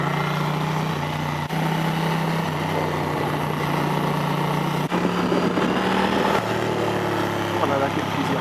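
A Ducati Monster 600 motorcycle ridden on wet roads, its engine holding a steady drone with shifts in pitch as gears change, close and loud under wind noise.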